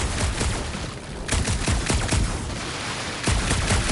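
Bursts of blaster gunfire in Marvel's Guardians of the Galaxy, rapid shots rattling loudly and close amid booming low thuds, with brief pauses between volleys.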